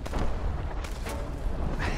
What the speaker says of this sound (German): Irgendwie klingen diese großen deutschen Kanonen ziemlich lächerlich.